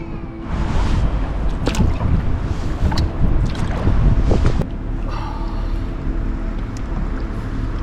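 Canoe paddling on a river in the Norfolk Broads, with steady water splashing and hull noise over broadband wind buffeting on the microphone, louder through the first few seconds and then settling into a quieter continuous wash.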